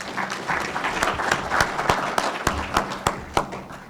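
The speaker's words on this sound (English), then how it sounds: "let's give our panel one last round of applause" Enthusiastic audience applause closing a panel discussion at a pavement preservation conference, a dense steady wash of many hands clapping with sharper individual claps popping out, moderately loud and unbroken.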